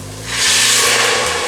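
A loud burst of hissing sizzle erupts as wine hits a hot pan and continues steadily, with a low hum underneath.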